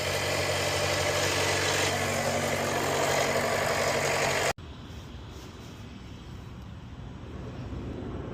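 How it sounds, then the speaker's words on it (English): A Jeep 2.0 engine idles after an oil change with a loud, steady running drone. About halfway through there is a sudden drop to a much quieter, even hum. "so now we're going to fire up, let it run for about a minute"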